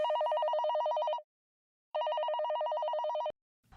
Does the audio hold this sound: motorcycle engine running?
no